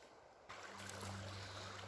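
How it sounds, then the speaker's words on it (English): A small creek running high with fresh spring snowmelt runoff, a steady broadband rush of flowing water that swells after a quiet start and continues unbroken. "Creek's running nice and high for a small creek"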